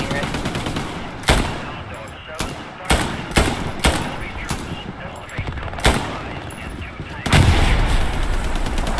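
Machine gun fire in the video game Hell Let Loose, with repeated loud bursts and single heavy reports at irregular intervals across a dense battlefield din, close and punchy.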